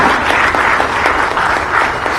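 Dense, loud, steady applause fills the room at the Ranchi launch of the Jharkhand Sports Policy 2022, a continuous crowd roar of clapping with no pauses.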